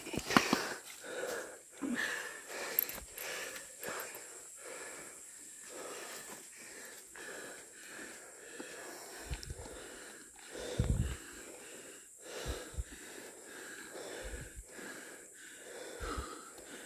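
Heavy, ragged breathing after exhausting effort: repeated sharp sniffs, wheezes and snorting inhales and exhales in an irregular rhythm, close and fairly loud, with no clear talk.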